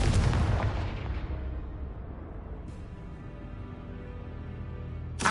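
A Confringo blasting spell explodes in Hogwarts Legacy, a loud broad burst at the start that rolls off into a long, fading rumble with a faint sharp click later, no voices.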